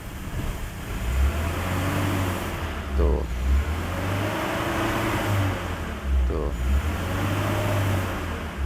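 A car converted to run on CNG revving in a workshop, its engine note rising and falling in two throttle blips over a steady idle hum.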